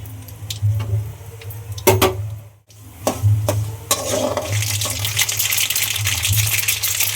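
Mustard seeds spluttering in hot oil for coconut rice, sharp crackling pops scattered irregularly over a steady sizzle that grows denser and brighter toward the end, close and fairly loud.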